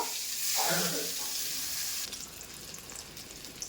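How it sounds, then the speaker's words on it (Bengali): Eggplant pieces dropped into hot white oil in a pan, bursting into a loud bright sizzle that eases after a couple of seconds to a steady frying hiss. "এবার আমি তেলের মধ্যে দিয়ে দেব বেগুনগুলো, ভালো করে ভেজে নেব।"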